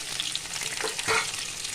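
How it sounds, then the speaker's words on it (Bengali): Onions frying in oil in a home kitchen pan, a steady close sizzle with faint crackles and stirring, no voices. "এবারে আমি এই দেখো তেলের উপরে পেঁয়াজটা দিয়ে দেবো"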